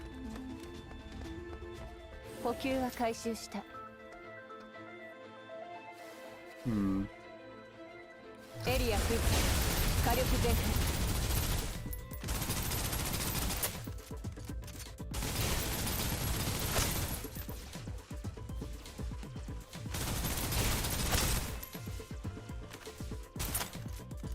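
Gunfire bursts from the shooter game Snowbreak: Containment Zone, loud dense volleys filling most of the stretch after a quieter opening with music-like tones, with a voice talking in between.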